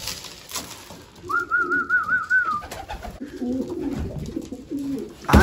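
Racing pigeons coo in low, throaty murmurs nearby at their loft, layered with a warbling whistle and some background rustling.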